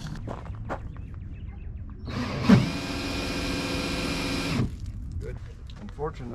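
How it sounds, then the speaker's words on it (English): A cordless electric drill runs a water transfer pump for an RV fresh water tank, whirring steadily at close range for about two and a half seconds before cutting off amid light background noise. "my drill does not have the button that holds the trigger, so I have to do it that way"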